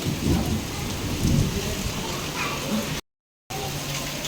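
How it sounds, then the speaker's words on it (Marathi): Heavy, windblown rain pours down in a thick, steady hiss while low thunder rumbles underneath, then the sound cuts out briefly before the downpour resumes. "खूप आडवा तिडवा पाऊस सुरू आहे आणि आबाळ पण छान गडबड करत आहे"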